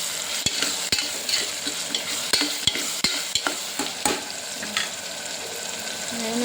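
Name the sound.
frying food in a pan with salt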